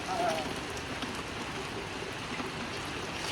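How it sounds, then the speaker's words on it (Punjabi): A dense, steady roar of rain pours down, constant and close, without any break. "ਮੋਟੀ ਮੋਟੀ ਗਣੀ ਦਾ ਮੀਂਹ ਪੈਂਦਾ ਦੇਖੋ"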